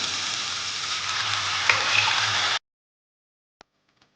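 Mutton pieces dropped into fried spice masala for Bengali-style mutton curry give a loud, dense sizzle for about two and a half seconds. The sizzle cuts off abruptly, followed by near silence with one faint click.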